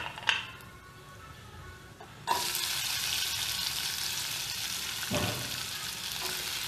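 Stuffed okra drops into a hot tempering of cumin seeds and asafoetida, and a loud burst of sizzling starts suddenly and holds steady and near after a couple of soft clinks, with no voices.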